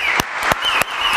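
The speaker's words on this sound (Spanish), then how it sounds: "nos vamos a recibir con un fuerte aplauso a la escritora Sofía G." An audience claps to greet a writer at a book presentation, a close, crisp patter of hands with a few sharp, loud claps standing out.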